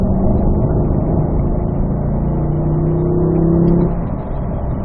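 A Corvette accelerates on a track at a performance driving school, its engine droning loudly and steadily with a rising tone before easing off near the end.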